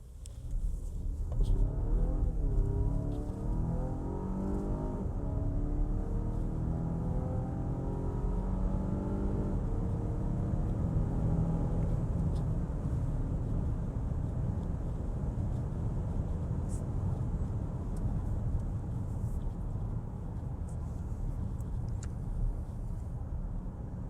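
Cabin of a Volvo XC60 T8 plug-in hybrid driving uphill under load: a steady low road and engine rumble with a faint rising drone, heard from inside the car for over twenty seconds and no talking.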